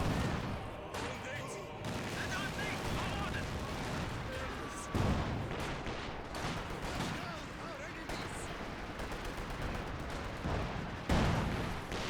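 In the Company of Heroes 2 video game, a Katyusha rocket barrage lands as a dense, continuous roll of rumbling impacts and crackling fire amid battle noise, with a voice talking faintly beneath it.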